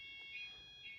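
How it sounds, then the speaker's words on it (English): A smoke detector on an addressable fire alarm system in pre-alarm mode gives two faint, high electronic beeps about half a second apart. "pre-alarm."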